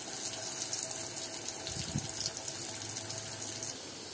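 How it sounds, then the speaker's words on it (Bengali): A single potato fries in a pan as part of a mutton curry, giving a quiet, steady sizzling hiss that runs unbroken throughout with no talking. "এখন সুন্দর করে লাল করে নেব, আলুটাকে ভেজে নেব"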